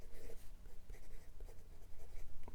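A 1947 Parker 51 Vacumatic fountain pen scratches across paper with Waterman's Serenity Blue ink, a soft, faint scratching of short irregular strokes close by, with no talk.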